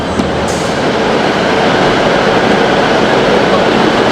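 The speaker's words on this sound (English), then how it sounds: "here comes the train" A train pulls into a station platform in the South Pennines, a loud, steady rumble and roar of rolling wagons that fills the whole stretch without pause.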